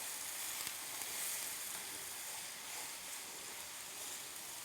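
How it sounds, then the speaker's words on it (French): Onions and garlic sizzling in a hot pan alongside meat, a steady, dense hiss held at an even level throughout, close and continuous with no talking. "Juste après, on rajoute les oignons."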